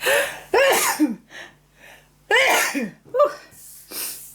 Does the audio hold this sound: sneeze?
yes